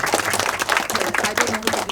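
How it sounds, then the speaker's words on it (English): Applause from a panel-discussion audience, a dense burst of clapping that stays steady and fairly loud for the whole short stretch, with no one speaking over it. "A round of applause."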